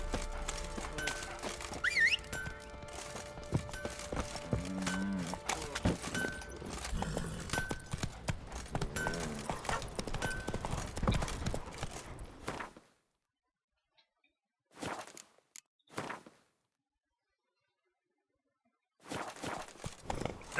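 Roach the horse's hooves clip-clop steadily through a natural outdoor setting in a video game, a continuous rhythmic patter over ambient game sound for about twelve seconds, then only brief faint bursts amid silence.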